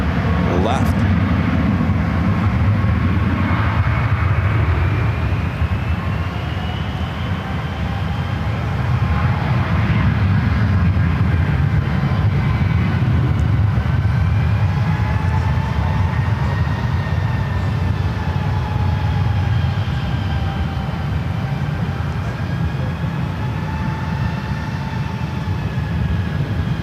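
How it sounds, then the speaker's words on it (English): An American airliner rolls down runway 1 left at SFO for takeoff, a broad steady engine roar with rising whining tones, heard from a distance and sustained across the whole stretch, with a voice talking over it at times. "That flight to Phoenix, American, now rolling down 1 left."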